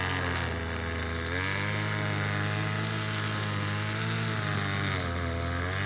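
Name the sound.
old Ryobi petrol engine tool running roughly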